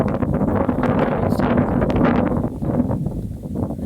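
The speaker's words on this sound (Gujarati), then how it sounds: "પવન" Strong, storm-strength wind in Anjar roars and buffets the microphone in a loud, continuous rush with no pauses.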